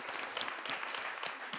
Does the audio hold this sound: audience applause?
yes